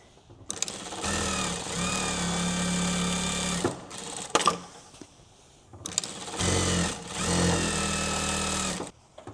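A sewing machine quilts through a tote bag layered with foam, running in two long, steady, fairly loud stretches separated by a brief pause with small handling clicks.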